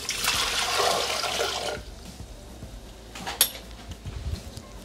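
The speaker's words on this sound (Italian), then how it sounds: "Iniziamo la ricetta mettendo all'interno del boccale l'acqua che deve essere calda." Hot water pours into a Thermomix mixing bowl for a savory potato, ham and scamorza pie, a steady splashing gush for almost two seconds that then stops, followed by faint clinks and handling sounds.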